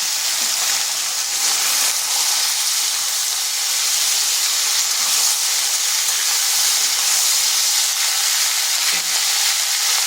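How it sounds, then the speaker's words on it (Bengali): Cut potatoes and ivy gourd hit hot oil in a pan, giving a loud, steady sizzle and hiss that holds evenly throughout with no talking. "তেল গরম হয়ে এসেছে, এরপর দিয়ে দিচ্ছি কেটে রাখা আলু আর কুঁদরি"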